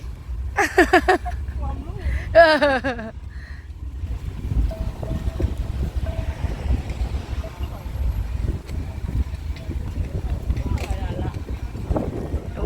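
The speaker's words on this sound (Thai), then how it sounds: "ลมวอยๆ" Wind buffets the microphone in a continuous low rumble, with voices heard near the start and the gusts carrying on steadily afterward.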